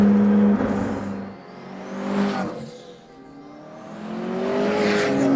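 A high-revving 1200 HP triple-turbo McLaren engine whines and roars, rising and falling in pitch as it accelerates and shifts, loud and close throughout.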